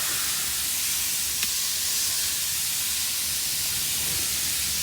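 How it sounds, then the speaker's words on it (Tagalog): Insecticide sprays onto garden plants from the ground upward, making a continuous close hiss that holds steady throughout with no talking. "Spray natin mula sa ground paakyat."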